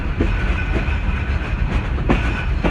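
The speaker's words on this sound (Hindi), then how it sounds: "इस वक्त हमारी 12 हज़ारा एक्सप्रेस पहुंच रही है खानेवाल जंक्शन रेलवे स्टेशन पर।" The 12 Hazara Express arriving at Khanewal Junction railway station on a cold, foggy early morning, a loud steady rumble of rolling carriages with rhythmic clickety-clack wheel beats on the rails.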